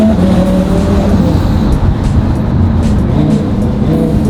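A rebuilt twin-turbo Lamborghini Huracan pulls hard and runs through gear shifts, its loud engine roar dense and close throughout, with pitch rising and dropping between changes.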